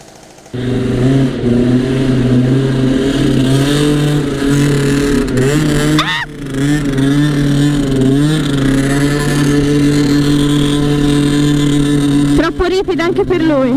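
Motor scooter engine droning steadily while riding, a continuous mid-pitched hum with small pitch shifts and a brief throttle change midway, loud and close with wind noise.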